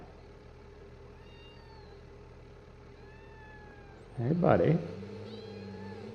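A cat meows once, fairly close, in the farming game Cattle & Crops, over a steady low engine-like hum; someone speaks briefly around it.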